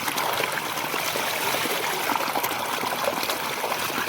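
Irrigation water flows into a field plot, a continuous close trickling and gurgling rush outdoors that holds steady throughout without speech.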